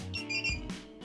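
A drone receiver on a GEPRC Vapor D5 fitted with SBUS beeps as it binds, giving several short electronic tones in quick succession, close and clear with a low handling rumble beneath.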